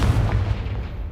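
Confringo fire spell blasting in Hogwarts Legacy: a single loud, deep boom that rumbles heavily through the low end and fades slowly over about a second, with no voices.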